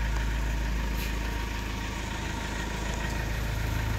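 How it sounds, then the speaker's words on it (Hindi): A car engine idles steadily nearby in a village setting, a low continuous rumble with a constant drone and no voices. "गाड़ी की आवाज़ सुनी"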